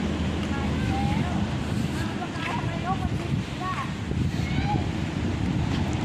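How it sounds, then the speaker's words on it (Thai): Cold wind blows outdoors on a chilly morning, a steady broadband rush with gusty swells, faint bird chirps and someone talking over it. "ลมหนาวมาแล้วนะครับ"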